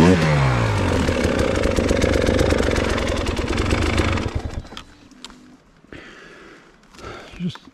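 A KTM motorcycle engine runs loud and close, a rough revving drone that drops away after a few seconds, leaving scattered quieter mechanical noises and a voice.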